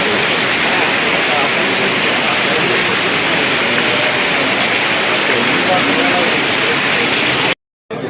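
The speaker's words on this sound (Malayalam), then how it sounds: "ആ നല്ല മഴയാണ് രാവിലെ തന്നെ മഴയായി ചന്തയിൽ ആളില്ല" Heavy morning rain pours over the Perumpilavu market, a loud, unbroken roar of water that stays dense and even throughout, cutting out only for a brief moment near the end.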